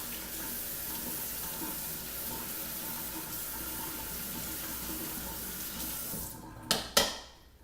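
A kitchen tap runs in a steady stream while ginger is rinsed under it, a constant close splashing hiss that ends with a couple of sharp clunks and bursts as the water is shut off.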